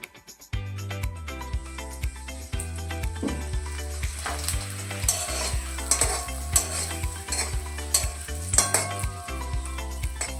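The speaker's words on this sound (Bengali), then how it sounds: "এবার একটা একটা করে ভেজে নেব।" A spicy cauliflower paratha fries in oil in a wok, giving a continuous close sizzle with spatula scrapes and clinks. Steady tonal background music plays under it, and no one talks.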